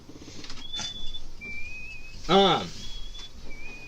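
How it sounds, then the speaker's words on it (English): Someone whistles the Game of Thrones theme as thin, sustained pure tones in short phrases, fairly faint beneath a louder burst of room noise and a brief voice-like sound. "who's got the Game of Thrones whistle going right now?"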